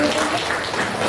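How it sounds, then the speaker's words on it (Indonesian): An audience applauds Bu Heni at a parent and teacher gathering, a brief, steady burst of dense clapping. "Kita boleh kasih tepuk tangan deh buat Bu Heni."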